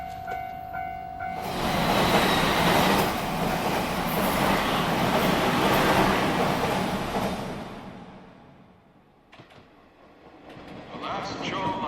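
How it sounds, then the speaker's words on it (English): A shoreline train bound for Tokyo roars in loudly close by at a station, a rushing rumble that builds, holds for several seconds, then fades as it slows. "The last shoreline train bound for Tokyo is now arriving."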